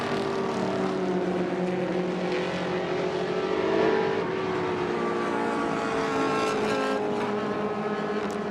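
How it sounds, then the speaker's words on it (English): Vintage race cars, including a Datsun 2000, roar past at an SVRA race at Indianapolis, with a loud, steady, dense engine drone that holds for the whole stretch and shifts slightly in pitch. "Esma in the Datsun 2000 continues to charge forward."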